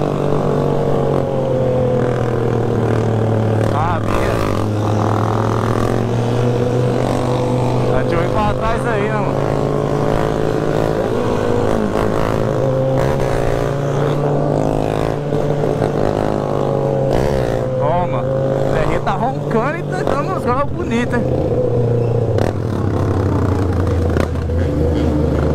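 A group of motorcycles, including Honda Hornets, ride downhill at night, their engines rumbling and rising and falling in pitch as they pass, loud and continuous, with people talking over the noise.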